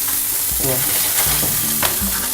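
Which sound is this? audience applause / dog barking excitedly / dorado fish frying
dorado fish frying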